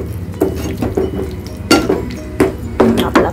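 A spoon stirs tomato sauce into red pasta sauce in a metal pan, giving repeated sharp clinks and scrapes against the pan at an irregular rhythm, close and fairly loud over a soft background.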